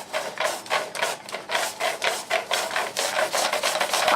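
A Dyson DC04 Zorbster wand works Zorb cleaning powder into carpet with a loud, rhythmic rasping scrub, each stroke swelling and fading in a steady back-and-forth pattern close up.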